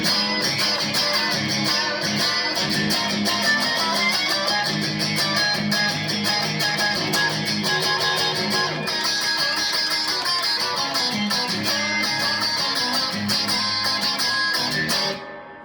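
Electric guitar plays the second part of a solo at full speed, a dense, busy run of bluesy licks and chord stabs, loud and continuous until it stops abruptly at the end.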